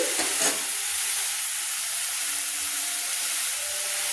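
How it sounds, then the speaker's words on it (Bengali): Steamed cabbage frying with onion, garlic, chili and tomato over a medium flame for a few minutes: a steady, close broadband sizzle with a brief scrape of stirring near the start, no voices. "ভাপানোর পর পেঁয়াজ রসুন লঙ্কা দিয়ে সব কিছু দিয়ে টমেটো দিয়ে আমি প্রায় 3 থেকে 4 মিনিট মাঝারি ফ্লেমে ভেজে নিচ্ছি"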